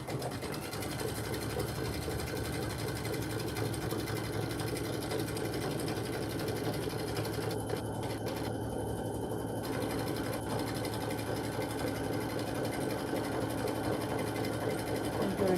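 A Kimberbell sewing machine runs in one long, steady stitching pass, a close and even mechanical hum with no break in rhythm and no voices over it.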